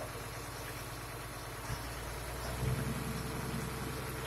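A truck's diesel engine idles steadily, then is raised to about 1,000 RPM to build air brake pressure during a Class A air brake test. The low, even rumble grows louder partway through and holds there, with no talk.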